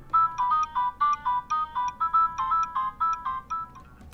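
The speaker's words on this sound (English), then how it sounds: "Hey, at least it had polyphonic ringtones." A Nokia 7600 phone plays its polyphonic ringtone, a bright, loud melody of short repeated electronic notes in a steady rhythm, heard alone.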